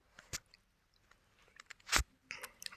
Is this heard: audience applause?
no